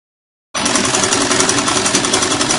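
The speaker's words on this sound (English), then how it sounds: "So I'm going to sew it down now by ½ inch." A sewing machine sews a half-inch seam on an Ankara fabric sleeve for a box pleat blouse, starting abruptly after brief silence and running loud and steady with a fast chattering needle, close up.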